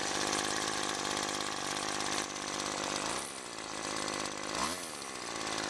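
A Weedeater Featherlite FL20 string trimmer's two-stroke engine runs loud and close with a buzzing, rattling drone, its pitch dipping and surging a couple of times without any talking.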